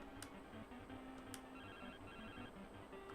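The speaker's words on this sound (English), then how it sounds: "No, that's the phone." A cell phone ringtone from the Pokémon Gold game plays as a faint, repeating electronic chime, with no one talking.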